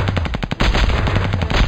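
Rapid automatic gunfire in the Small Soldiers: Squad Commander game, Commandos mission: a loud stuttering burst of distinct shots, then a denser, continuous stream of firing that keeps up to the end.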